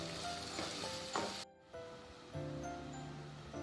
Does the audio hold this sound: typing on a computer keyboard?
no